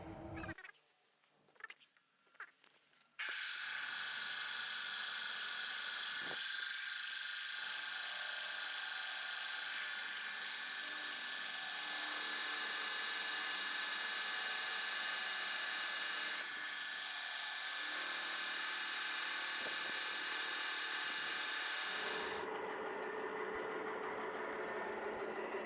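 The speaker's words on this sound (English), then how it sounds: "I've got to drill a hole into this to expand the chuck into" A few brief knocks and handling sounds, then a power drill whines steadily for about twenty seconds, boring into an elm root for wood turning, its pitch shifting slightly, before stopping.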